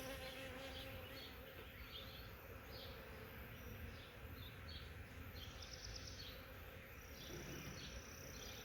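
A dense, continuous hum of many honey bees buzzing close by at an opened hive, steady and droning with individual wingbeats rising and fading.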